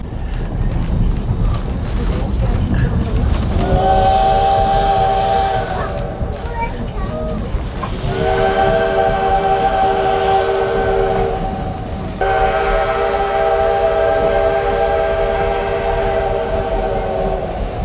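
The 1880 Train steam engine, running between Hill City and Keystone, South Dakota, chugs along loudly while its whistle sounds in long, repeated blasts, with brief pauses between them.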